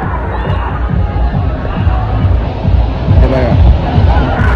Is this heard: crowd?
yes